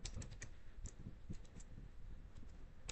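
Soft keystrokes tap out in a quick, uneven run on a computer keyboard while variable code is written, faint and close against a low background hum.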